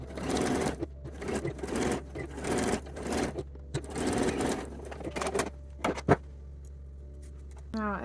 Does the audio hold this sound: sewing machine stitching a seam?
yes